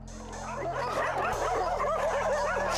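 Dogs at a home where a woman keeps over a hundred of them bark and yip in rising, overlapping bursts over a steady low electrical hum, fairly close and continuous.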